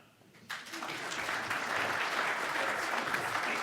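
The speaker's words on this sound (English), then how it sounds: "You can clap." Audience applause at an association's annual general meeting, starting abruptly after a short lull and building into steady, dense clapping from a full room that holds at a loud level to the end.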